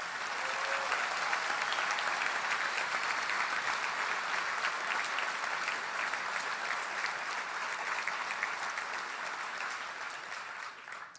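A graduation ceremony crowd gives the class of 2018 a long, steady round of applause, thick even clapping from many hands that holds for about ten seconds before tapering at the end.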